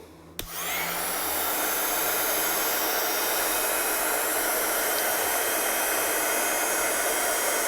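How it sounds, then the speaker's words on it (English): Heat tool drying an ink painting, switching on with a click and then a steady loud, close blowing whir that runs without pause. "I'm going to get my heat tool and I'm going to dry this one off."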